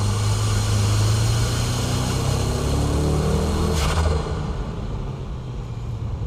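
A Nissan S14 warms up its tires and brakes on a wet track, its engine a steady loud drone with rising and falling pitch, easing off partway through.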